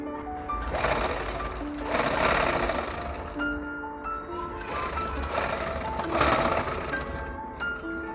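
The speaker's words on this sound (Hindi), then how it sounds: "ये वाला पल्ले को हटा के आपको लॉक कर देना है सिलाई मार के।" Sewing machine stitching the pallu of a ready-to-wear saree, a steady close whirring run that surges in several bursts with no talking.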